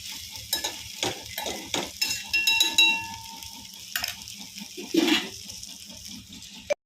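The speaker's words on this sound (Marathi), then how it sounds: "थोडंसं हलवून घेऊयात" Brinjal and potato curry being stirred in a pan, a scraping, clattering spoon working through the thick mixture in uneven strokes over a soft steady sizzle, close and moderately loud with no talking.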